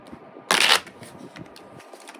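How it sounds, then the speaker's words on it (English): A single quick burst of tarot cards being riffle-shuffled, loud and close, lasting under a second amid quiet room tone. "Let me shuffle one more time."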